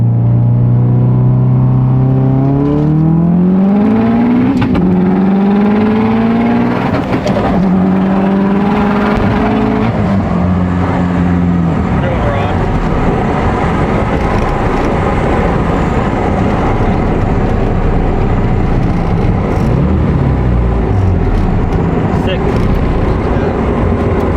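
A stock-block 800 hp Subaru engine revved hard on brake boost, loud and close, its pitch climbing and wavering through several pulls before settling into a rough, heavy drone, with people talking over it.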